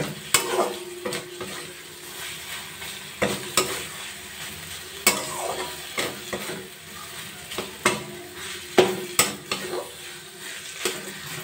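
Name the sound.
chhana sautéed with spices, stirred in a pan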